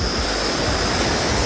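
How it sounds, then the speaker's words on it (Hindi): Water gushes out of a cave at Guchhu Pani in Dehradun, a loud, dense, continuous rushing roar close by with no pauses and no voices. "ये वहीं केव में से पानी आ रहा होगा"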